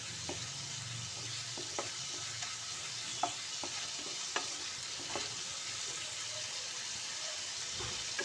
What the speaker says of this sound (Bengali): 1/2 চামচ কাশ্মীরি লঙ্কা গুঁড়ো দিয়ে মশলাটাকে খুব ভালো করে কষিয়ে নেব